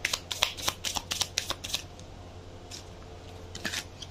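A stiff deck of tarot cards being shuffled close up, with a quick run of crisp riffling flutters in the first two seconds, then a brief quieter burst near the end, no talking.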